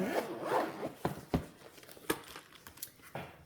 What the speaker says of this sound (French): Une double fermeture éclair